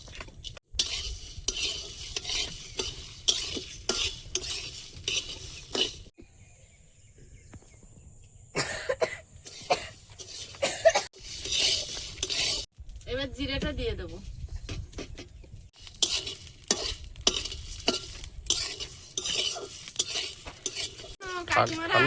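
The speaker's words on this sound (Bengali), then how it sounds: "প্রথমে শুকনো লঙ্কাগুলো আগে দেব ধনে আর জিরে ধনেটা আগে দিয়ে আর একটু ভেজে নে তারপর জিরে দেবো" Whole dried red chillies, coriander seeds and cumin dry-roasting and being stirred in a pan, giving repeated scraping and rattling strokes with light sizzle, close by, with gaps and a cough and voices between.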